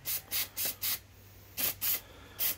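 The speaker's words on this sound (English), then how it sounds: "So you're going to start by spray some carb cleaner on it." Carb cleaner sprayed onto a Briggs & Stratton lawn mower carburetor in short hissing bursts, about seven sharp sprays in quick rhythm, close and clear with a brief pause midway.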